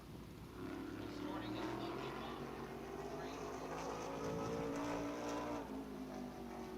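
Cody Norman's Mike Norman Motorsports Troyer modified race car running at Caraway Speedway, a steady loud engine roar with a broad droning rumble, heard under continuous commentator talk.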